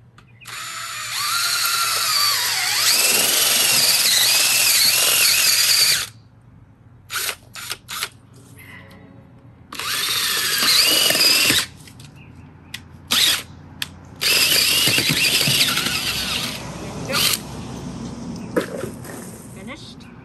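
Drill with an auger boring planting holes sized for 4-inch pots, loud whining bursts that start and stop several times with pauses between, and a person speaking in the gaps.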